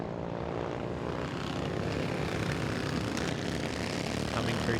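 Historic racing motorcycles roar together at close range as three bikes ride into turn one at Broadford, their engines blending into a dense, continuous, loud drone that holds steady throughout.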